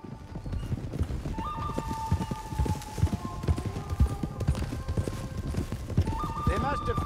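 Horses gallop with steady, close clip-clop hoofbeats and occasional whinnies in a Red Dead Redemption 2 gang ride, with voices talking over the hooves.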